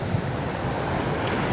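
Strong ocean surf and steady gusting wind at an Aruba kitesurfing beach, a continuous close roar of breaking waves with heavy wind buffeting on the microphone.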